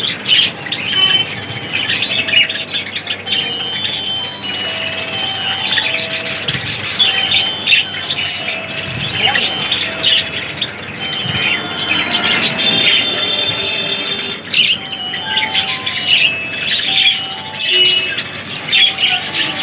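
Caged diamond doves, Bengalese finches and black Java birds fill the air with dense, continuous chirps, squawks and tweets, steady and fairly loud throughout.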